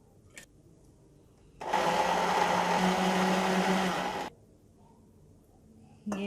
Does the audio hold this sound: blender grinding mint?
yes